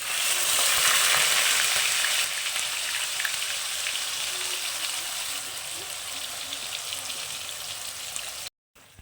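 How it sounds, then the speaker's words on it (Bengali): Ginger, garlic, green chili and onion paste fries in a pan with a steady, loud sizzle and crackle throughout, no voices over it, cutting off briefly near the end. "এই মশলাটাকে আমি সুন্দর করে খুব ভালো করে ভেজে নেবো"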